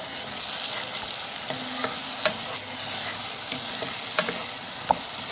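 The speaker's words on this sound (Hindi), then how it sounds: "अब इसको भूनेंगे।" Ground spices with garam masala frying in a pan for daal mash, a steady close sizzle with occasional light clicks of a spoon stirring through it, with no voices.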